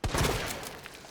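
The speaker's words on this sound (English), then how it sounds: "that you want to headshot with your shotgun" A shotgun headshot on a zombie in the sewers of Resident Evil 2 Remake, one sharp loud blast with a bursting crunch that decays over about a second, with no talk.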